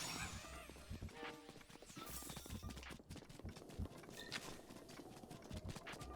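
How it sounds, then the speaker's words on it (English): Horse hooves clip-clopping in the video game Zelda: Breath of the Wild, a steady trotting patter mixed with game music and effects, with occasional crunches, loud and continuous throughout. "My horse is named Shoe Horse, that's right."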